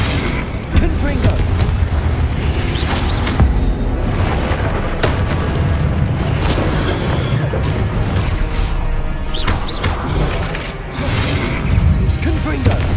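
Repeated Confringo fire spell blasts in the video game Hogwarts Legacy, spell explosions booming loudly one after another over a dense, continuous layer of combat noise, with shouted spell incantations.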